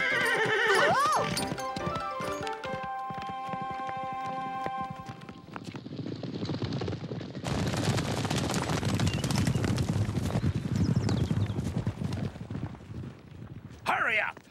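A cartoon horse neighs, then gallops with rapid clip-clopping hooves, loud and close, among music and sound effects.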